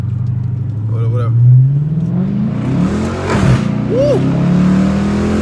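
A 2019 Chrysler 300 V8 fitted with a cold air intake accelerates hard, its engine note rising loudly through a revving sweep up close, with a whoop of excitement and other voices over the roar.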